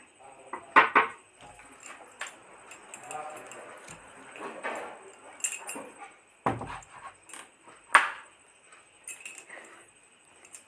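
A ladle stirs rice with oil and spices in a pot for jeera rice, giving a few scattered metallic clinks and scrapes at close range, with someone talking throughout.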